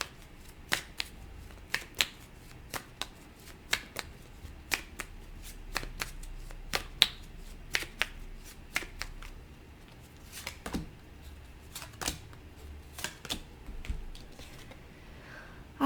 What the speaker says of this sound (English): Let's get some more cards.